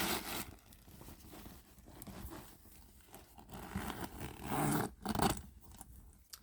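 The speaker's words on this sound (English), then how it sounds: "So that zipper zips up with no problem." A zipper running along a Coach handbag, quiet, close rasping pulls mixed with soft handling rustles of the bag.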